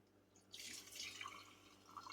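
Pine needle tincture being strained, with liquid suddenly pouring and splashing into a container, then a continuous trickling flow with small drips, fairly quiet and close, with no talking.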